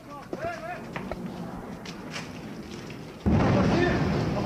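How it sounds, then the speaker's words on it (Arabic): A sudden deep boom hits partway through and its rumble lingers, following a stretch of faint voices and scattered sounds nearby. "انفجار."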